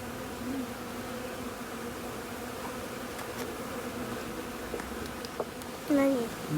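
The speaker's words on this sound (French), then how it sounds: "elles sont en train de remplir les alvéoles, elles ont toutes les fesses en l'air. Vous voyez, les abeilles." Honeybees at an apiary drone steadily while filling comb cells, a continuous close buzzing of many insects with occasional brief louder passes near the end.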